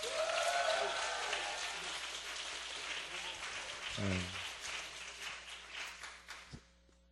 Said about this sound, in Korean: 이거보다 10배 세게 박수